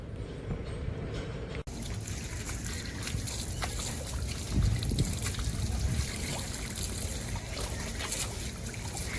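Cold borewell water gushes steadily for bathing, a loud, continuous splashing rush close by with sloshing bursts and no pauses.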